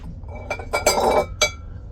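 Amber glassware clinking as it is handled at a flea market, a few bright glassy taps and rattles close by, with no talking.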